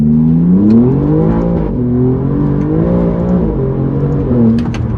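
Alfa Romeo Giulia GTA M accelerating hard from a standstill to 60 mph, a loud close engine note rising through the revs with brief dips at gear changes, heard from inside the car.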